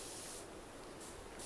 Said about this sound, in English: So I'll just spray on the inside of this border.